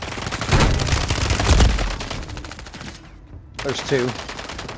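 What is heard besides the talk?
gunfire from the video game Call of Duty Rebirth Island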